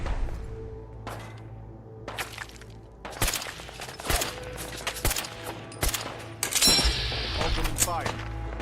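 Gunfire in Fallout 4, with scattered single shots and short automatic bursts mixed with impacts and shattering. The fire is fairly close and intense over a rumbling background, and voices are heard at times.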